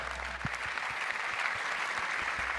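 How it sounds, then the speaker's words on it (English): Steady audience applause at a company convention gathering, a dense continuous patter of many hands clapping at moderate loudness with occasional distinct closer claps standing out from the crowd. "I want a round of applause again for Sam."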